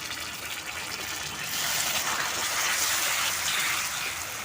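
Two spoonfuls of water poured onto jaggery in a pan, starting as a soft hiss that swells into a steady rushing wash of liquid partway through, with no talking.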